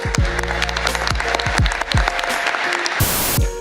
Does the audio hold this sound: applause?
yes